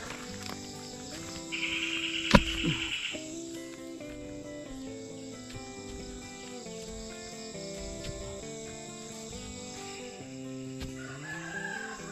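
Out on a farm, a rooster gives one clear, close crow over a steady bed of chirping insects and sustained tonal background sound, with faint clucking around it.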